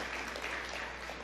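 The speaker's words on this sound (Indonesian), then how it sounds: "Berikan tepuk tangan yang meriah buat Tuhan." Church congregation clapping together in steady, dense applause that fills the whole moment, with no voices standing out above it.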